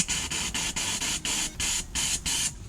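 Steam cleaner purging bursts of steam during mobile car detailing, a series of about nine sharp hissing pulses in a steady rhythm, close and loud with no talking.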